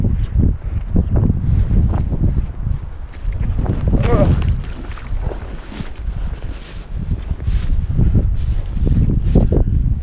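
Strong wind gusts buffet the microphone outdoors at a low-water beaver trapping spot, a heavy rumbling roar that swells and dips, with faint rustling and movement underneath.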